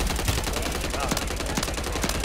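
Rapid automatic gunfire in Warzone 3 on Rebirth Island, dense bursts of shots crackling close together throughout, with game noise mixed in.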